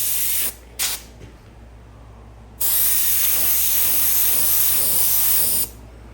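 An airbrush sprays paint onto a motorcycle side cover while a smoke skull design is painted: two short hissing bursts, then a long, steady, loud spray hiss that cuts off sharply.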